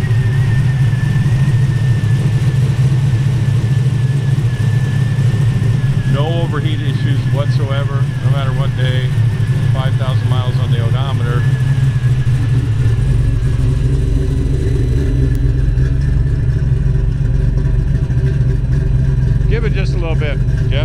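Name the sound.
1968 Chevy Camaro LS3 V8 engine running and revving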